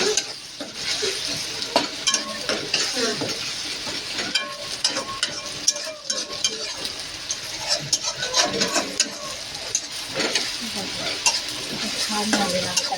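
Tomato and onion frying in a pan, steady sizzling with a spoon scraping and stirring close by throughout, a few metallic clinks mixed in.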